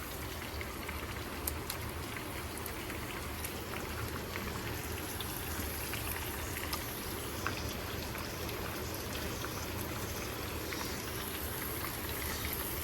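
Onions going into hot oil in a pan give a steady, dense sizzle and crackle that runs unbroken throughout, close and moderately loud, with no talking.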